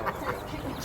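A pet chicken held in someone's arms at a flea market gives a couple of soft, brief clucks, faint and close among low background noise.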